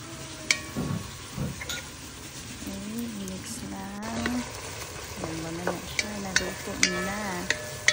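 Beef mixture stirred and frying in a pan before rice and water go in for congee: steady close sizzle with scraping stirs, plus a voice talking intermittently over the cooking.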